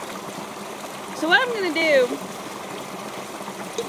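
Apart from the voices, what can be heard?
creek water flowing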